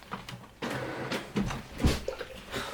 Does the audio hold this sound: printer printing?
yes